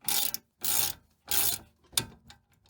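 A bolt is turned by hand onto the wheel hub of a 2011 Audi A5 S-line during a wheel bearing replacement, giving four short ratcheting, grinding bursts with brief pauses between them, close and with no talking.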